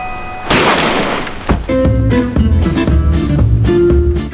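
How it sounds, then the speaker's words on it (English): A sharp gunshot blast bursts out, followed by a booming thump and dramatic music, all heard through a television speaker. "The gunshot sound from the TV startled the hitman"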